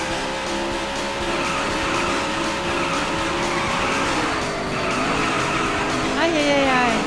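Cars in the Daytona USA racing video game spin out with squealing, skidding tires over continuous engine roar and crowd-like game noise, the screech rising toward the end.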